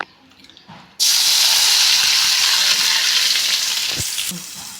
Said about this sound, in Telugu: ఎర్రగడ్డలు ఎరగడ్లు చిన్నకు కోసుకోవాలి క్యాప్సికమ్ చిన్నకు కోసుకోవాలి ఈ రెండు నూనెలోకి వేద్దాం